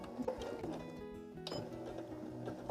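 A sewing machine stitches quilt binding at a quarter-inch seam, a soft, quiet mechanical whir with faint tonal hum and small clicks, briefly pausing midway before running on.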